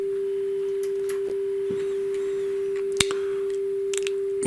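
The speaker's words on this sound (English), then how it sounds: "So, test tones coming." A steady pure calibration test tone from a cassette deck playing a BASF tape, holding one even pitch throughout with faint clicks and ticks from the machine.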